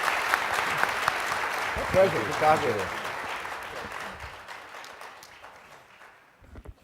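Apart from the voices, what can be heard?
audience applause after a panel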